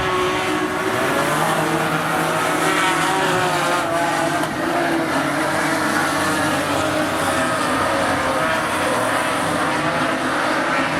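Modified race cars roar around Rockhampton Speedway during a 20-lap feature race, a loud, continuous engine drone with shifting pitch as the pack passes close by.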